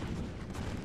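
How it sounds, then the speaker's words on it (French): Cannon fire in the video game Empire: Total War, a dense low rumble of booming shots rolling together as continuous, loud battlefield artillery throughout. "Vite le canon. Feu à volonté."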